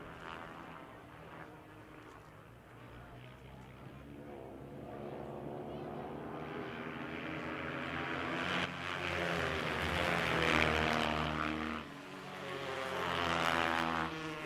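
Kawasaki KX 450 motorcycles racing on an ice track in the Ice Bike Open, a loud droning engine roar that swells and rises in pitch as the bikes pass, with an announcer talking over it.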